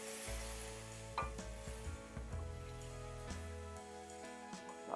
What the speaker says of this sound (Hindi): अब डाल देते हैं हम हमारे जो मटर और सलगम लिया है वो, तो इनको हम मिक्स भी कर देते हैं साथ साथ